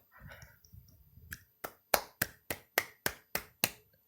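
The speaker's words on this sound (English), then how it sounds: "Everyone, give defnoodles a big clap." A sharp single hand clap rings out, then seven more follow in an even, steady rhythm, each crisp and close. A softer rustle comes before the claps begin.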